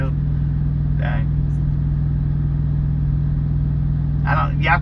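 A car hauler truck pulls up near a Florida waterfront, its engine a steady low idle rumble that stays loud and constant throughout, with brief bursts of nearby voices breaking in twice.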